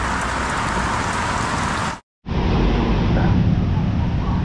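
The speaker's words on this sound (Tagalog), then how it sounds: "Ay, ulan." Steady rain pours down around a garage where floor tiles are being replaced, a dense continuous hiss that cuts out briefly midway and then resumes just as heavy.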